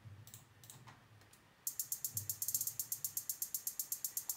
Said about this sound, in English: I also added in this last section the hi-hats that we had in the chorus